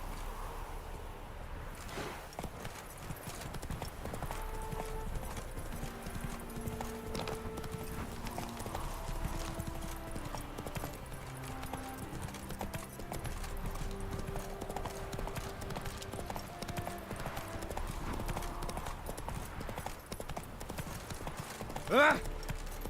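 Roach, the horse in The Witcher 3, pounds along in a steady galloping clip-clop of hooves under in-game music throughout, with a brief vocal sound near the end.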